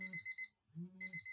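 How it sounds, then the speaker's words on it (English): An alarm clock goes off in repeated bursts of bright electronic beeping, a short pause breaking the pattern before it resumes, fairly close and with no voices over it. "oh, look at my alarm."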